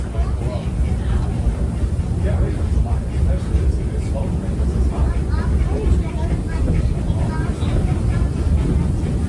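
A Walt Disney World Railroad train at Magic Kingdom rumbles steadily along its rails for several seconds, a constant low mechanical roar close by, with a voice talking over it.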